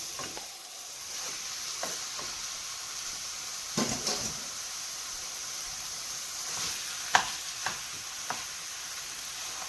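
Chopped meat for shepherd's pie fries in a pot with a steady close hiss and sizzle, broken by occasional scraping stirs, with no talk.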